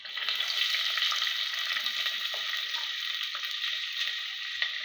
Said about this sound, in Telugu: చిన్న ముక్కలుగా కట్ చేశానండి. దోరగా వేయించుకున్నాము.